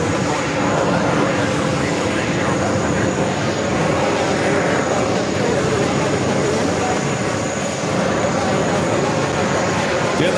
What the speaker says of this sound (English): Doing that Delta 767-400ER heading to LAX, flight 738, number 3 for takeoff.